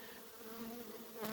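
Honey bees buzz steadily in an open hive during a winter colony inspection, a dense, continuous droning hum heard close up with no speech.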